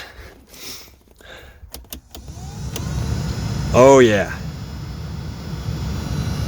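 A 2011 Honda Fit Sport's replacement HVAC blower fan motor whines steadily over low engine rumble, with a brief louder tonal sweep and a short spoken remark.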